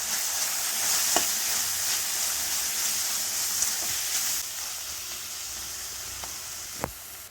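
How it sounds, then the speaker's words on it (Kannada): Garlic paste, pepper powder and salt stir-fried in a pan, a continuous loud sizzle with a few sharp utensil taps and scrapes scattered across it, easing slightly toward the end. "ಚೆನ್ನಾಗಿ ಎಲ್ಲನೂ ಫ್ರೈ ಮಾಡಬೇಕು."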